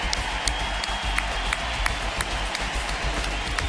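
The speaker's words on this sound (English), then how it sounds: "Huge roar from the crowd" Big crowd at a Nationals baseball game in Washington on the Fourth of July roaring and cheering, a steady wash of noise with scattered claps throughout.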